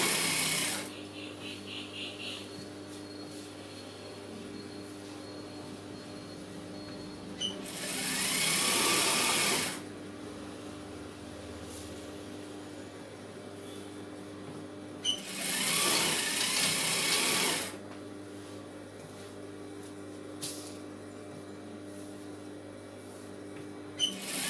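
An electric sewing machine stitches a fall onto a saree in two loud, whirring bursts of a few seconds each, separated by quieter pauses with a low background hum.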